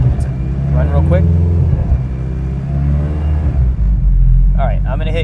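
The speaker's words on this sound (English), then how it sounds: "Let me go fire off the engine." Supercharged Honda K20 engine fitted in an NSX runs on a dyno, a loud steady rumble with rising revs, with people talking over it throughout.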